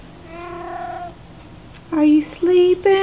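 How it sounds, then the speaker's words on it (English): A cat sitting in sunshine meows, starting with one drawn-out mew, then after a brief pause three short, strong, close calls in quick succession, with a human voice murmuring quietly beneath. "It's Kitty in the Sunshine time."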